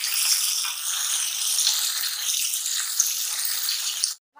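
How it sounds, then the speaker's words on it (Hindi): Stock poured little by little into a sizzling beef coconut karahi: a loud, steady hiss and bubbling fry that runs unbroken for about four seconds, then cuts off abruptly. "ये थोड़ी थोड़ी करके यखनी डाल रही हूँ और उसकी इसी तरह बनाई कर रही हूँ।"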